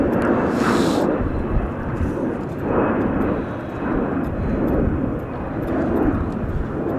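An Air China Cargo freighter just in from Anchorage taxis past at Chicago O'Hare International Airport, its jet engines giving a steady roar that swells and fades as it rolls by.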